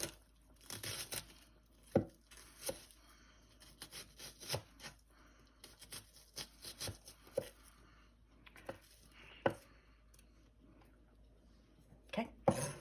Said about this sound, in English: I like slicing and prepping all by hand.